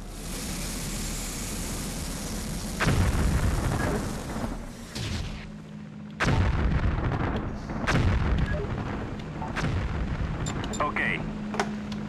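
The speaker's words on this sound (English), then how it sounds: "Destroyed. Demolition underway." Demolition explosions in the video game Hostile Waters: Antaeus Rising: two heavy, booming blasts with long rumbling tails over a constant roar of background noise, followed by smaller crackling impacts.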